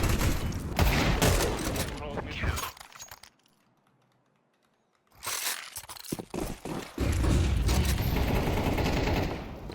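Teammates firing guns in a competitive first-person shooter match: dense bursts of gunfire and mechanical clatter, loud and close, broken by a brief near-silent gap before the shooting resumes.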